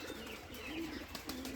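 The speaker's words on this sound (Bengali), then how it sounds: "সব কবুতর চালে আসছে, এসে ডাকাডাকি শুরু করতেছে" Pigeons cooing on a house roof in Rajshahi, soft close rolling coos repeating in a short burst over faint background hiss.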